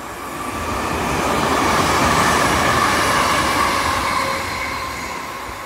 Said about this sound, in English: Here we have a 385 to Glasgow Central from Wemsby.